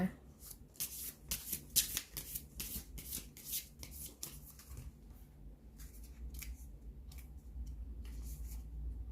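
Tarot or oracle cards shuffled by hand, a quick series of crisp riffling bursts that slow and thin out toward the end, close and fairly quiet with faint room tone.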